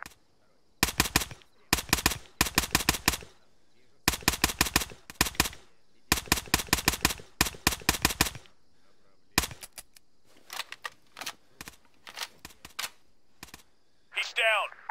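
Gunfire in the video game Arma 3 with a Cold War Assault mod: sharp bursts of automatic fire in repeated volleys, then scattered single shots and a short burst at the end, loud and close.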